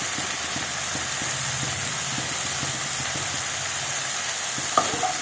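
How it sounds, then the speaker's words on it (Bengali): Potato pieces with salt are stirred in a frying pan over a steady sizzle, with a soft regular scraping rhythm near at hand and a single light clink near the end. "একটু ভালোভাবে নাড়িয়ে দিই, লবণটা যাতে সব জায়গায় পেয়ে যায়"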